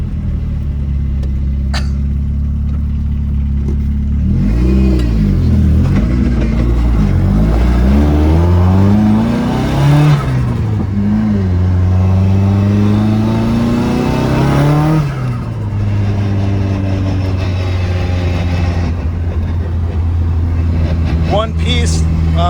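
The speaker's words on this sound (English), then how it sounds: "Ooh, this new shifter feels really good. There's a lot of trans noise." Car with a newly installed shifter and one-piece drive shaft, a loud engine droning and rising through gear changes with a whining transmission tone, heard from inside the cabin under a voice.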